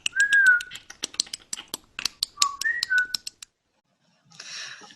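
A parrot mimics human speech in a rapid run of squawky, talk-like syllables broken by clear rising whistles, all close and loud, then falls silent before a brief hiss of noise.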